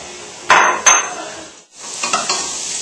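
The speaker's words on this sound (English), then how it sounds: "So we're just going to add the tofu with the sauce" Tofu added with sauce to a hot pan, giving two sharp clattering impacts followed by a steady broadband sizzle that briefly dips and returns, with a few more soft knocks near the end.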